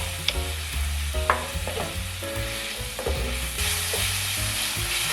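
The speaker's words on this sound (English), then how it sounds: "You want to fry this over high heat so the beef cooks instantly." Beef sizzles and crackles in a hot pan over high heat for a stir fry, with a spatula scraping and stirring in steady bursts, loud and close.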